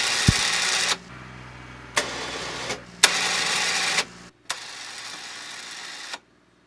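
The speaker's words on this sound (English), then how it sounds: "Let's hook up our battery and see if these switches make the winch work." An ATV winch on a Can-Am Renegade runs in short bursts as its switches are tried, giving about five loud whirring motor runs of roughly a second each, separated by brief pauses and sharp clicks, with no talking.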